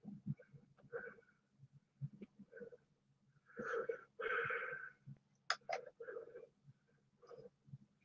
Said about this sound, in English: it's pain that you're hearing if you're hearing heavy breathing